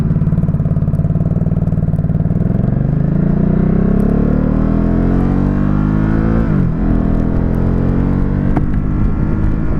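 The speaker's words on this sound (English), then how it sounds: "That is the nice thing about any Ducati you jump on, they are gonna sound good." A 2017 Ducati Supersport motorcycle engine drones steadily while riding, rising in pitch as it accelerates, dipping briefly at a gear change, then pulling again, loud and close with continuous wind noise.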